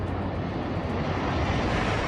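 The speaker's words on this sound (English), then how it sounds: "the roar of the jet engines" Military jet flyover above New York Harbor during a large Fourth of July maritime gathering, a steady, dense engine roar that holds loud and unbroken throughout.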